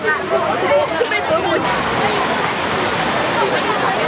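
Continuous splashing and rushing water from a lion-statue fountain in Singapore fills the clip, steady and fairly close, like a fountain pouring into a pool.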